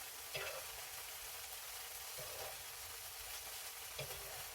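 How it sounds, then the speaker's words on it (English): A piece of fish fries in oil in a pan while being basted, a steady soft sizzle broken by three louder splashing swells as hot oil is spooned over, with no voices. "I'm basting it so that flavor can be all over that piece of fish"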